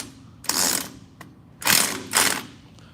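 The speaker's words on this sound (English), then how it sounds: "So we got a 13 socket. Go ahead and tighten that thing up." A socket ratchet fitted with a 13 mm socket tightens bolts in a crisscross pattern, producing three short bursts of rapid clicking close by, separated by brief pauses, with no talking.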